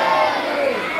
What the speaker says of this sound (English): can I just give them a wee cheer?